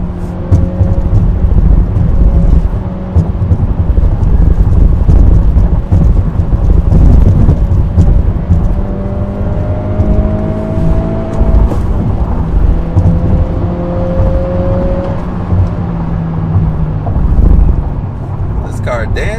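An Acura Integra engine pulls hard toward redline through the gears, a loud, dense drone with rising tones that climb, drop and climb again, heard from inside the car.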